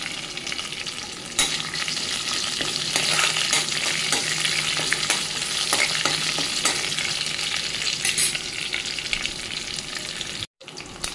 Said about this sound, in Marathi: आता आपण फोडणीला घालूया